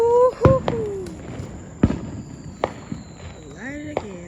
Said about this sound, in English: they're gonna light a firework again